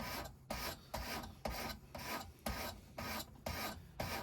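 A knife is drawn across a sharpener in a slow, even rhythm of about nine rasping strokes, each followed by a short pause, close and fairly quiet with no voices.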